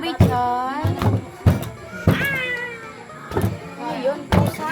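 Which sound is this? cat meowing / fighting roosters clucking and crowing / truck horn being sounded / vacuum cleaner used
cat meowing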